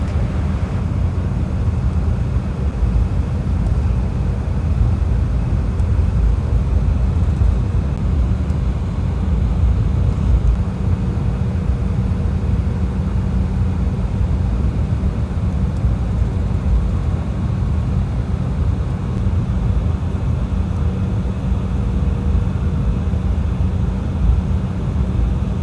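Embraer ERJ 175 airliner taxiing toward the runway, heard from inside the cabin as a steady, loud engine hum and rumble with no break, no talking.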